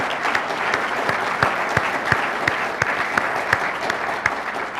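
Audience in a university lecture hall applauds steadily, dense clapping filling the whole stretch at moderate loudness, with no talk over it.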